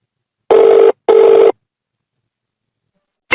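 A telephone rings in two loud, even bursts close to the mic, then falls silent before a third ring begins at the very end.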